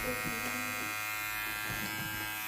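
A Limural LM 7250 electric motor tool runs at about 6500 RPM, giving a steady, close electric buzz with a constant hum and no change in pitch from start to finish.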